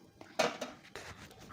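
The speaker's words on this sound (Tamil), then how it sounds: "இப்போ ஒரு டைம் நல்லா கிண்டி கொடுத்துக்கோங்க." A spoon knocks and scrapes against a pot while theeyal curry is stirred, giving a few sharp metallic clinks and scrapes at close range, with no talking.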